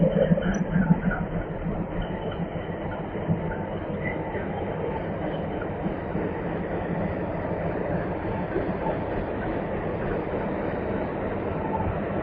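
Ratnachal SF Express, a 22-coach LHB rake, rolling past close by with a continuous heavy rumble and rhythmic wheel clatter on the rails, steady and loud throughout.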